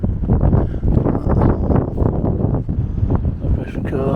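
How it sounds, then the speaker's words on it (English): Strong wind buffets an outdoor microphone at a stunning overlanding camp spot, a loud continuous low roar with gusty surges throughout. "You're not going to hear me because of the wind."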